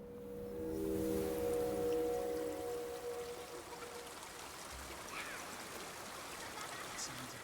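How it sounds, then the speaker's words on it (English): Water streams and trickles in the climbing game Jusant, a soft continuous flowing wash with faint droplets, quiet and ambient, alongside a brief tonal hum at the start. "Sounds of water."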